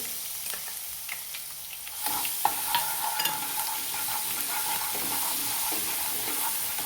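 Ginger garlic paste sautéing in a pan with green chillies and turmeric, a steady close sizzle that jumps louder partway through, with scattered clinks and scrapes of stirring throughout.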